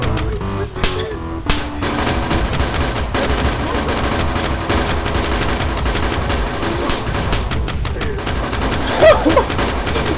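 Dense, continuous gunfire in the military shooter Arma 3 during a building defense, loud rapid shots and bursts layered over each other with no letup for the whole stretch.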